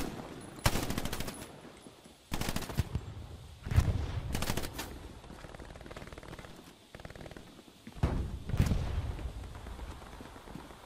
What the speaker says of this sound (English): Someone shoots from there.